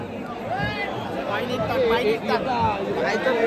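A dense crowd of devotees chatters at the Ekvira Aai palkhi festival, a steady close babble of many overlapping voices with a few louder voices standing out.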